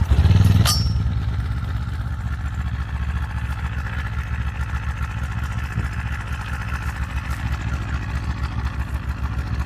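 XTM 2200-watt pure sine wave inverter generator pull-started outdoors: a short burst as the engine catches, then a steady, close, mid-pitched running drone that continues evenly to the end.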